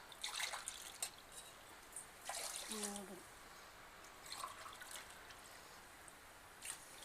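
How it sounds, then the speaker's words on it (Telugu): Four glasses of water are poured over two glasses of rice in a cooking pot, making faint splashing and trickling in short bursts. A voice speaks briefly in between. "2 గ్లాసుల బియ్యానికి 4 గ్లాసులు వాటర్ పోస్తున్నాను."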